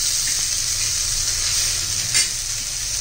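Sliced onion and green chillies frying in a pan for raw mango chutney, giving a steady, close hiss of sizzling oil with faint stirring scrapes and no voices.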